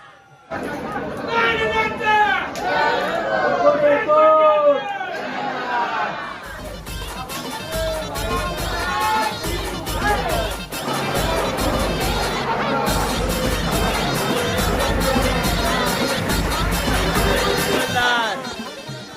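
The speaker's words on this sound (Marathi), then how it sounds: "आज सोमवार असल्यामुळे गर्दी खूप आहे." A dense crowd of pilgrims fills the queue at Jejuri temple on a busy Monday, with loud continuous chatter, overlapping voices and general hubbub close around, and occasional bangs and calls rising over the noise.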